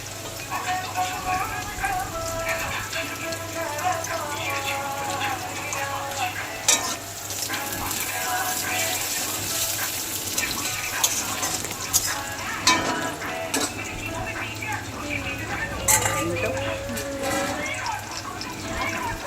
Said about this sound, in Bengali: তো সবজিগুলো দিয়ে বেশ কিছুক্ষণ নাড়তে থাকবেন, যতক্ষণ না আলুগুলো একটু ভাজা ভাজা মতো হয়।